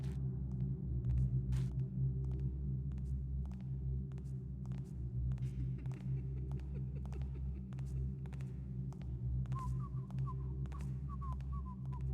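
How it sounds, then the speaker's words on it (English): A man whistles a faint, wandering tune at a distance over a steady low rumble and hum, with soft intermittent footstep-like taps throughout, in the video game Thief: The Dark Project. "I can hear a guy whistling and trotting around up there."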